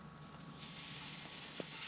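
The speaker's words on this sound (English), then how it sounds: "just kind of throw your steak on there" A steak sizzles in a hot pan turned down to medium heat, giving a soft, steady hiss that swells slightly partway through, with no talking.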